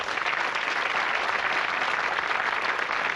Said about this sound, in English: Let's have a round of applause for Tim Wiegand, please.